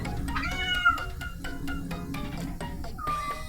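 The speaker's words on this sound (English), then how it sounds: "I'm being told off by my cat again." A house cat meows insistently indoors, a string of loud, drawn-out cries in quick succession with short pauses between them, close to the microphone.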